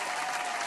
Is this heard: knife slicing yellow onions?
no